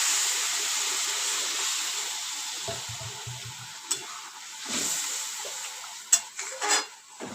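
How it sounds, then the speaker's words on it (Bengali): Hot water goes into a pan of potatoes cooking in a soybean chunk recipe, setting off a loud sustained hiss and sizzle that slowly fades, broken by a few stirring scrapes and clinks near the end. "গরম জলটা এখানে দিয়ে দিতে হবে"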